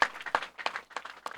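Spectators at a rural premier league cricket final clap in scattered bursts, several sharp claps in a loose rhythm, fairly close and with no talk over them.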